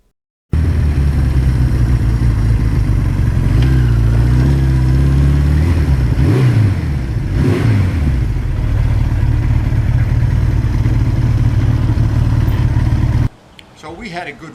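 A 1982 Suzuki GS1100E motorcycle engine runs steadily and loud up close, with a couple of revs rising and falling midway, then cuts off abruptly near the end.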